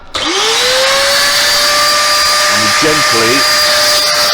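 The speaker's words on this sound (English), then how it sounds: "So we turn the router on" A wood router spins up to a loud, steady high-pitched whine as wood is fed along the fence, with a voice speaking briefly over the motor.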